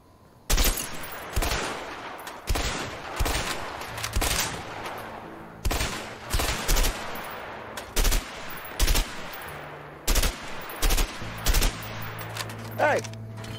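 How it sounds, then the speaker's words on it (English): Guns firing in the video game A Way Out, a string of loud, close shots in quick bursts, some spaced and some rapid, with a brief voice between them. "Let's shoot at them."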